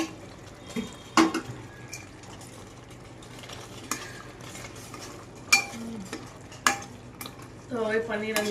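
Paneer cubes cook in a thick gravy in a home kitchen pot, soft low sizzling broken by several sharp scrapes and clinks of a spoon stirring against the pan, with a brief murmur near the end.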